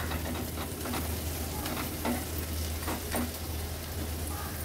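Cooked tomatoes get mashed in a sizzling pan: steady frying hiss with rhythmic soft thumps and scrapes of the masher, close and moderately quiet, no talk.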